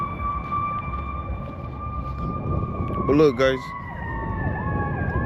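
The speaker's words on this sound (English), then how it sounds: "All them sirens." Emergency vehicle sirens wail steadily at a distance near a park in Dover, Delaware, with a quick yelping burst partway through, under a voice and outdoor ambience.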